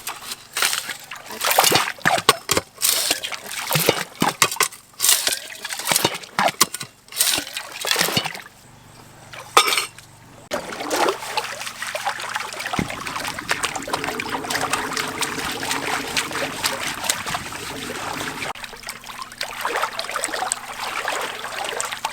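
A suction hose slurps water and gravel off creek bedrock during gold prospecting, with irregular splashes and clattering stones at first, then a steadier rushing gurgle under a low motor hum.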